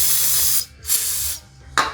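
Brake cleaner sprayed from an aerosol can onto a Honda Fit clutch release fork and throwout bearing shaft, three sharp hissing bursts, the first two long and the last short, close and loud with no talking.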